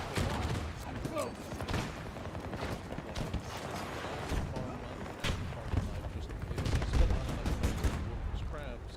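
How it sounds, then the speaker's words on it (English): Battlefield 2042 gunfire crackles through a busy battlefield, scattered shots and short bursts over a dense rumble of combat noise, while people talk throughout. "Hostile fire!"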